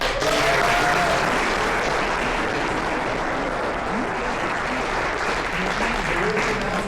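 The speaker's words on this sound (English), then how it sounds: "So please, a round of applause for them." A ceremony audience applauds award-winning university teams, dense sustained clapping from many people that fills the space evenly and loudly throughout, with a faint voice at the start.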